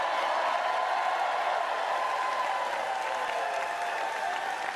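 A large crowd at a presidential campaign rally in Raleigh, North Carolina, applauding steadily and loudly throughout, a dense continuous wash of clapping with cheering mixed in.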